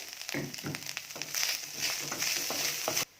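Coconut, cumin and fennel masala toast in a hot pan with a little oil for a Kerala-style fish curry, giving a steady close sizzle with scattered crackles and a brief stirring scrape, stopping abruptly at the end.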